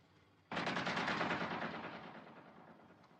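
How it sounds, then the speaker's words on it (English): A sudden burst of movie gunfire, warning shots fired in a desert war film, erupts as a loud rapid volley and then slowly trails off into echo, with no voices. "Maybe warning shots, sir."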